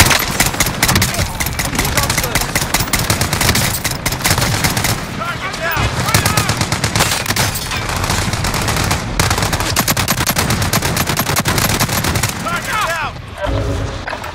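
Dense, continuous gunfire from a military video game, rapid machine-gun bursts and scattered shots layered loudly and nearly without pause, with speech mixed in underneath.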